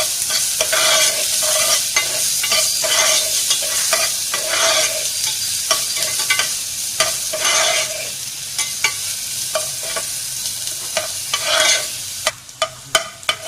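Onions sauté in a pan with a loud, continuous sizzle, while a spoon stirs and scrapes in a regular rhythm, ending in a few sharp knocks against the pan.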